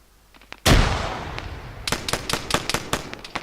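An airsoft grenade goes off during a night skirmish with a sudden sharp loud bang, followed by a quick run of smaller popping cracks that fade over a few seconds, with no talk.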